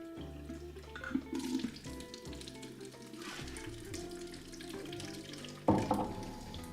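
Tap water runs and splashes while strike water is drawn for home-brewing an English golden ale, a steady rushing stream with louder splashy bursts near the start and again toward the end, no talking.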